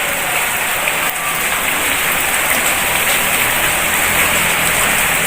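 Steady rain falls overnight onto a garden of plants, a dense, continuous hiss of drops on surfaces that holds level and loud throughout with no voices.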